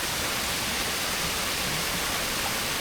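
A stream at a campsite in Real, Quezon flows in a dense, steady rush of water, close and unbroken with no voices.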